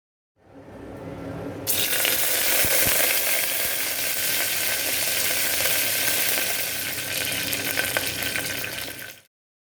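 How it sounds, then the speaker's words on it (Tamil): Curry leaves splutter in hot oil for a mutton bone curry, a loud, dense hiss that bursts in sharply after a quiet start and holds steady, close up, with no voices. "கருவேப்பிலை பொரிஞ்சதும் நான் 4 பச்சை மிளகாய் சேர்த்துக்கிறேன்."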